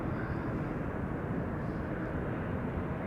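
An airliner at Amsterdam Schiphol Airport, a steady broad engine roar heard at a distance, even and continuous with no talking over it.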